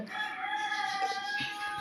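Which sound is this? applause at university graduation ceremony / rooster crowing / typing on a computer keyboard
rooster crowing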